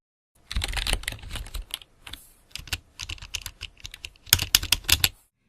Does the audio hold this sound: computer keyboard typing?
yes